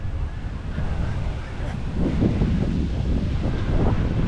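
Wind buffeting the microphone on a sunny beach, with a steady roar of waves and surf rising slightly louder toward the end, no voices.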